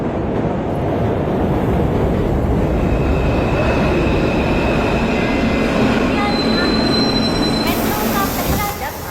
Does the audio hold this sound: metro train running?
yes